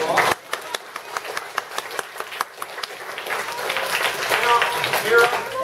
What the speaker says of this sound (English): Give my friend Mira a big round of applause.